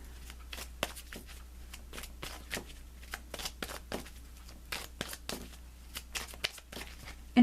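A deck of tarot cards is shuffled up close, a quiet run of soft, papery riffles and flicks repeating in quick, uneven bursts.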